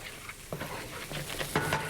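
Cod fillets frying in garlic herb butter in a pan, stirred with a few soft scraping strokes over a quiet, steady sizzle.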